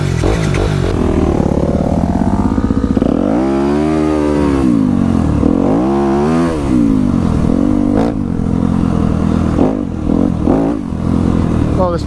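A Yamaha WR dirt bike rides a motocross track at Elsinore MX Park, its engine droning and rising and falling in pitch through revs and shifts, loud and close throughout, with a person talking over it.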